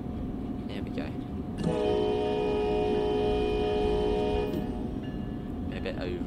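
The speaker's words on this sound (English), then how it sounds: "A bit over obsessive with the horn. The horn sounds great on this one." An ALP46 electric locomotive horn in the Train Sim World 4 video game sounds one sustained, loud chord blast lasting about three seconds over steady rolling train rumble.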